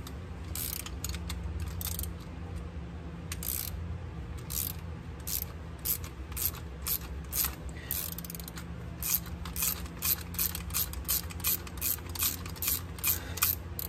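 Socket wrench ratcheting while tightening a bolt on a budget storage shelf for a Jeep Wrangler JL, giving quick bursts of close, crisp clicks in uneven runs, alone without talk.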